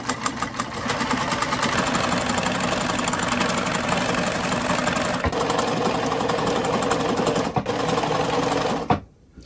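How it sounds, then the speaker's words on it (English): A sewing machine stitches fabric about a quarter inch from the edge in one steady, fast, rattling run that stops abruptly at the end. "I'm going to sew on that part so that the bottom will be nice and secure. And I'm sewing from about 1/4 inch from the edge"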